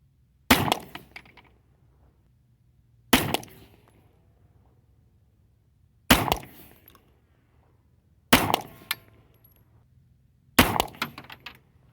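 Five sharp 9mm subsonic handloads fired with 5.2 grains of Blue Dot powder, evenly spaced about two to three seconds apart, each a loud crack with a short decay, between them near silence.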